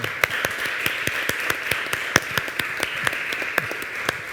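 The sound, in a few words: audience applause at a gastronomy forum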